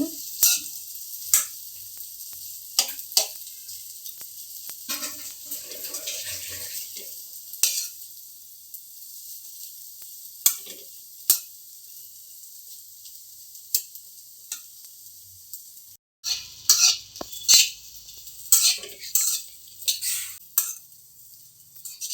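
Bread egg bhurji frying in a pan as it is stirred and flipped, a thin steady sizzle broken by sharp scrapes and clicks of a spatula, with a brief silent gap and a cluster of taps near the end.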